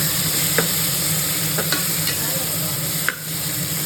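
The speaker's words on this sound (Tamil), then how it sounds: "இப்போ வெங்காயம் இந்த அளவுக்கு வதங்கின பின்னாடி கொத்தமல்லி, ஒரு செகண்ட் வதக்கணும்." Chopped onions and coriander leaves sautéing in a pan for mutton biryani, a steady close sizzle with a few sharp spatula scrapes and clicks, no talking.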